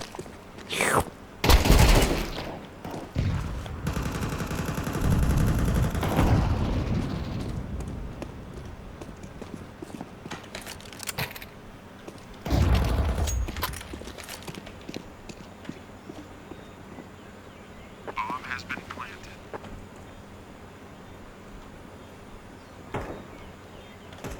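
Gunfire in Counter-Strike 2 comes as sharp bursts and rapid rattling volleys, loud early on and then sparser single shots, with clattering footsteps and quieter background movement between them.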